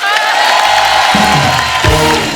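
A studio audience at a TV comedy show cheers and claps for Pawan Singh, a loud, steady burst of crowd noise with whoops over it, lasting only a couple of seconds.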